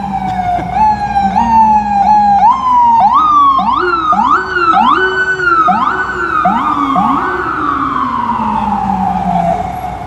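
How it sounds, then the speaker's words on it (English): Emergency vehicle sirens wail on a New York City street at night, several overlapping police and fire sirens rising and falling in rapid yelps and long sweeps, loud and close for the whole stretch with steady street noise beneath. "And we can hear more sirens."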